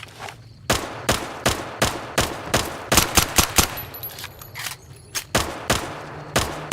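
Gunshots ring out in the video game Fallout: New Vegas as a rapid, irregular series of about fifteen loud, sharp cracks, some clustered in quick bursts and others spaced apart, with no talking.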